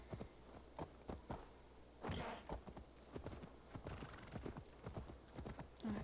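Horse hooves clip-clopping in Assassin's Creed Valhalla, a steady walking rhythm of close, crisp hoof strikes with a faint whinny, no talk.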